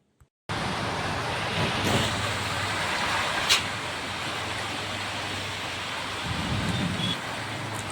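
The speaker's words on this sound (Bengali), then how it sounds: "ঝড় হচ্ছে, তার সাথে সাথে কিন্তু বৃষ্টিও হচ্ছে।" Steady rain pours through an afternoon storm with wind, a broad continuous roar holding from start to finish, with a low rumble of thunder and a brief sharper crack partway through.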